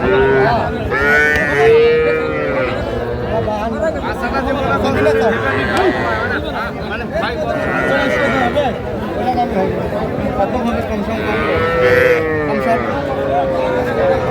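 Cattle, young bull calves and heifer calves moo at a busy livestock market in Madaripur, loud repeated bellows and bleats near and far over constant crowd chatter and people talking.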